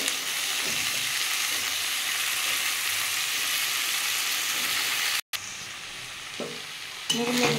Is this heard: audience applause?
no